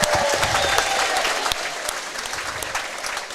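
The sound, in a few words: audience applause for swim and dive team seniors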